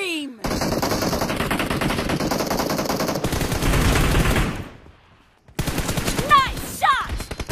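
Rapid automatic gunfire in a red-versus-blue arena team deathmatch video game, loud continuous bursts that break off briefly before resuming, with short game announcer calls mixed in.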